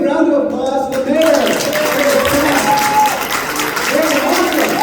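A crowd at a Diwali celebration in Chicago City Hall breaks into loud, sustained applause for the mayor, with talking and cheering voices mixed in throughout.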